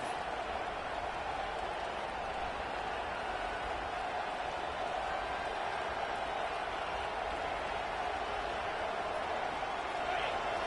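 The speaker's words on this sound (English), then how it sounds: "This crowd bringing the energy and noise early." A large football stadium crowd makes a dense, continuous roar at steady loudness, distant and undifferentiated, with no distinct voices standing out.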